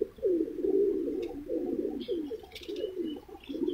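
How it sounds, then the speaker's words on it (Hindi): Pigeons coo on a rooftop loft, a close, soft series of throaty rolling coos repeating in a steady rhythm, with a few faint chirps in the background and no talking. "ये आपके सामने कबूतर के कलर देखें, कबूतर का पर देखें"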